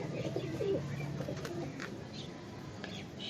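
A Teddy pigeon coos in low, soft, throaty murmurs, with faint chirps of other birds in the background.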